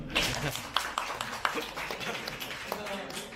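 An audience at a blockchain testnet launch meet-up gives brief, scattered applause, with a few distinct sharp claps standing out in the thin, moderately faint clapping while a presenter talks over it.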